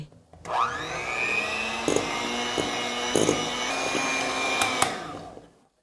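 Electric hand mixer whirring steadily as it beats a spoonful of dulce de leche into a dessert mixture, a continuous motor drone with brief bumps where the beaters knock the bowl.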